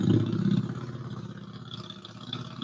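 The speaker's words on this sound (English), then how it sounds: "A lot of traffic to be so early in the morning on this road this morning." Early-morning road traffic passes close by: a steady, fairly loud rumble of car engines that is heaviest at the start and eases slightly before rising again at the end, with no voices.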